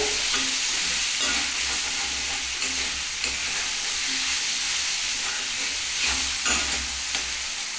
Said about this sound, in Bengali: এটা তেলে একটু ভাজা ভাজা হবে